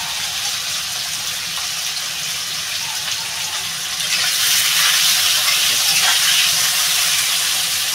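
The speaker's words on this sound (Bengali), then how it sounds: "আলুটা একটু ভাজা হবে" Potatoes frying in hot oil in a Bengali home kitchen for potato greens, a steady sizzling hiss that swells louder about halfway through and stays bubbling, close and continuous without talk.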